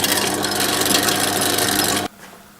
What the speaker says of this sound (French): les brasseurs tournent en continu sans aucun problème